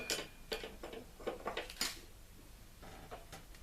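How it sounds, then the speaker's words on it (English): A spoon stirs and taps against china while China Rose Souchong loose leaf tea is prepared, a quick run of light clinks and ticks followed by a few softer taps after a pause. "Give that a bit of a stir. Tap it down."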